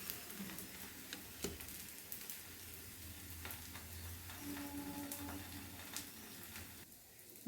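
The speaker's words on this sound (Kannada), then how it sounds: "ಚೆನ್ನಾಗಿ ಸ್ವಲ್ಪನೇ ಎಣ್ಣೆ ಹಾಕಿದ್ರೆ ಸಾಕು. 1 ನಿಮಿಷದಷ್ಟು ಚೆನ್ನಾಗಿ ಫ್ರೈ ಮಾಡಿ." Masala roti of soya beans, oats and fenugreek greens fries in a little oil on a pan, giving a steady soft sizzle with occasional faint ticks and crackles, no talking.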